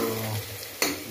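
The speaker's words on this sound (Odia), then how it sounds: "ମସଲା ପିଆଜ ଭାଜି ଭାଜିବା ପାଇଁ କିଛି ସମୟ ତାକୁ ଛାଡ଼ିଦେବା" Onions and spices fry in a pan for mutton curry, giving a steady close sizzle with a brief scrape of stirring near the end.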